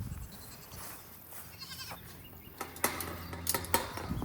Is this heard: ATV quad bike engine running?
no